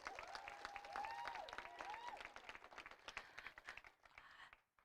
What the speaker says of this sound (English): One more round of applause for Mr. Gus.